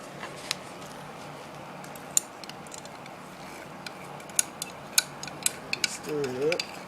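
Liquid being stirred in a gold extraction reaction from computer parts, faint scattered clinks and ticks of the stirrer against the container, ending in a brief swirl.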